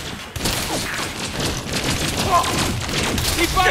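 Sustained gunfire in Elite Dangerous Odyssey, a rapid, dense fusillade of shots with booming impacts and mechanical clatter, continuous and loud throughout with a faint radio-style voice mixed in.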